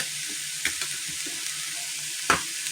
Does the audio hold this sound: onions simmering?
yes